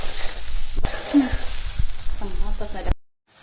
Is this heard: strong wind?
no